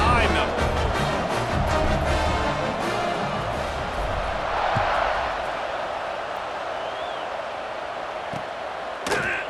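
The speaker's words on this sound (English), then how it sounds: "this crowd now ready to get behind them" Stadium crowd roars in EA Sports College Football 26, a broad sustained crowd wash that swells early and eases off, with scattered thuds and a sharp hit near the end, heard alongside commentary talk.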